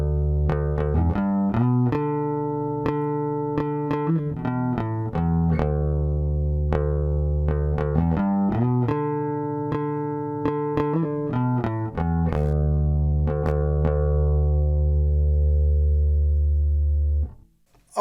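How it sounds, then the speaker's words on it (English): Electric bass guitar played through a Fredenstein Bento 8 hardware channel strip, a clean, full low line of plucked notes with sustained tones, loud and continuous for about seventeen seconds with no talking. "All right, so I have my bass guitar connected. I have a little bit of a sound dialed in on our channel strip"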